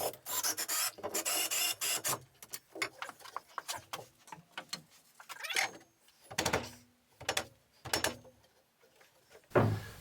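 A screwdriver drives 6 mm screws into timber racking rails inside a shipping container, with bursts of whirring and grinding separated by pauses and scraping handling noises, close up and with no talking.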